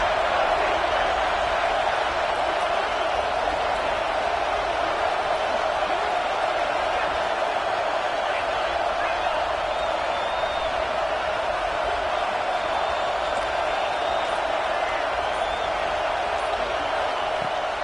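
A packed football stadium crowd roars at a steady, loud level through a third-down play in the red zone of a Tennessee versus Arkansas game, a dense continuous wash of massed voices with no breaks.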